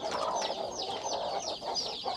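A mother hen clucks softly among her small chicks at a rice-field farm, with high, quick peeps from the chicks layered over low, steady clucking close by.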